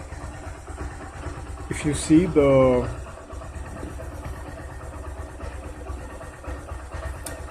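A Suzuki GS150R motorcycle engine idles in a low, steady drone throughout, while someone talks briefly over it near the start.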